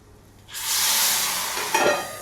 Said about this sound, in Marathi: अरे वा, छान फोडणी बसली बरं का